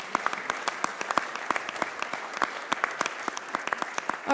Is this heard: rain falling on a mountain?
no